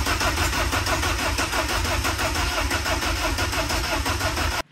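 A Renault Clio Williams engine cranks and fires up, settling into a loud, steady, close-up idle with a dense mechanical rumble. The sound cuts off abruptly at the end.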